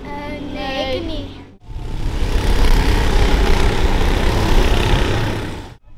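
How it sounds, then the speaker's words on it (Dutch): A 2-litre eight-valve Opel Astra engine in an autocross car runs loud and close with a steady rough drone, briefly cutting out near the start and again at the end. "Dit is een 2 liter Opel Astra. Gewoon een 8-klepper."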